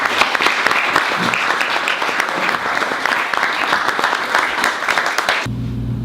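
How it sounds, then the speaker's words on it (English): An audience at a Rotary Club awards night in Whiteville applauds the award recipients, dense and steady clapping that cuts off abruptly near the end. "Let's give a round of applause to all the recipients of this year's awards."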